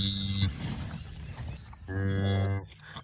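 A mother cow on a farm lows to her newborn heifer calf, two deep, drawn-out moos close by, separated by a short pause with soft rustling.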